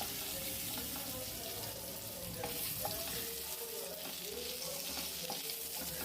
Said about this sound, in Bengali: এরপর আমি ভাজার জন্য দিয়ে দিচ্ছি আলুগুলো।